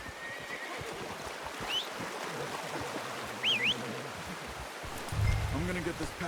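A horse whinnies in Red Dead Redemption 2, with short rising squeals over steady outdoor ambience of rustling and flowing water, plus a brief lower snort near the end.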